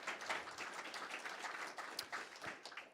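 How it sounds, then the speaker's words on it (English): Audience applause at the close of a DocuSign sales conference session, quiet and somewhat distant, with a patter of claps that rises and falls for a few seconds. "One more round of applause."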